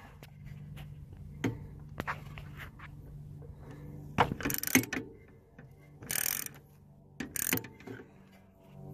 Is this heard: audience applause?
no